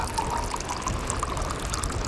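Hot water is poured from an Atomy thermal tumbler into a cup of potato ramen, a close, steady trickling stream that runs evenly throughout.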